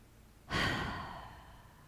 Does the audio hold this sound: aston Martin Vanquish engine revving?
no